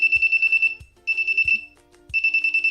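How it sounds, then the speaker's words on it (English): A buzzer on a homemade LED alarm circuit built on a breadboard sounds three times. Each burst is a shrill, rapidly pulsing tone lasting about half a second, with a soft knock at the start and short gaps of silence between bursts. "the buzzer is off, but the alarm is still going on."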